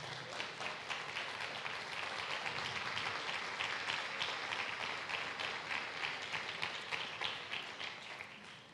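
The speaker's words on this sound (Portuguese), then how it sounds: "Aplauda ao Senhor." A church congregation applauds during a worship service, dense continuous hand clapping filling the room for several seconds before tapering off slightly at the end.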